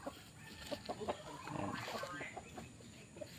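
Several fighting cocks cluck nearby in short irregular bursts, with a brief spoken word over them.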